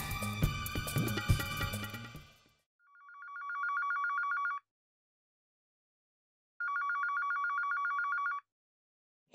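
After a few seconds of music, a telephone rings twice in clear, loud electronic trilling bursts separated by a silent gap.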